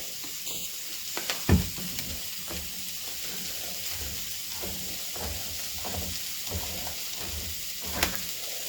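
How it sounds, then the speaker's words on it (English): Peppers and onions frying in a pan give a steady soft sizzle and crackle, with a few sharper clinks of stirring in the opening seconds and again near the end, close by and with no talking. "While we're waiting for the peppers and onions to cook, which should be done fairly soon"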